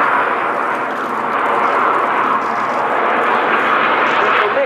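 A Frecce Tricolori solo aerobatic jet passes overhead at an airshow, a loud, sustained broadband engine roar that swells and holds steady throughout, with no clear talk over it.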